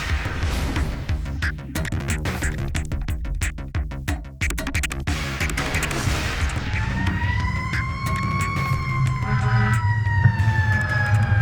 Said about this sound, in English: One of the critical moments for an apparatus driver is driving with lights and siren to an emergency site.